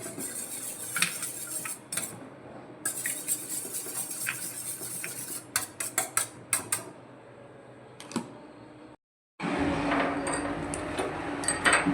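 Eggs with a pinch of salt are beaten in a bowl for an egg roll: irregular metallic clinks and scrapes of a utensil against the bowl, with a short silent gap followed by a louder burst of clatter.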